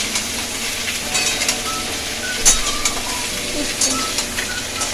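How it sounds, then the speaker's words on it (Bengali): Vegetables sizzling and frying in a pan with the lid off, a spoon scraping as they are stirred, steady crackling hiss with a few louder clinks, no talk. "এবার ঢাকনাটা খুলে সবজিটা একটু নাড়িয়ে দেবো"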